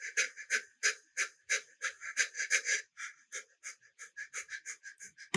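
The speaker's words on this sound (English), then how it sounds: "when you have the person close to you, bring that breathing up" Heavy breathing foley for a short film: a rapid series of close, raspy pants and breaths. The breaths are strong at first, then come softer and quicker, with a slight whistling edge.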